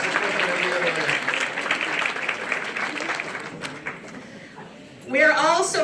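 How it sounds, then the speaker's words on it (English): At a Heritage University convocation, the audience applauds students' parents with a steady spread of clapping that gradually thins before a voice begins speaking near the end. "please stand and give your mom or dad an applause"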